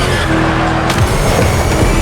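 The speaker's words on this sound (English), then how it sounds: "Just listen to that V8 like a chunky, down-tuned guitar riff." A Ford Mustang V8 in The Crew Motorfest racing game roars loudly and continuously, with a brief tire screech partway through and no voices.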